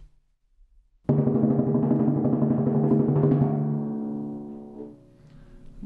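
A timpani roll on D natural played on a 26-inch drum, entering abruptly after a second of near silence, sustaining as a steady, resonant, close tremolo, then gradually thinning and fading out near the end.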